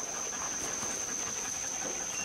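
A hunting dog pants after a boar hunt, quick soft rhythmic breaths close by, faint under a steady high hiss.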